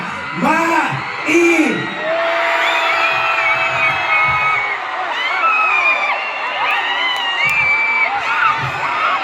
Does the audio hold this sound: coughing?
no